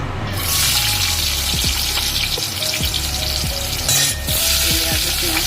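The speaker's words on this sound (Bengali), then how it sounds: "আমি কড়াই আবার তেল চাপিয়েছি, তেলে আমি প্রথমে আগে পেঁয়াজটা দিই।" Onions hit hot oil in a kadai and sizzle loudly and continuously up close, with occasional clinks and scrapes of a spoon stirring.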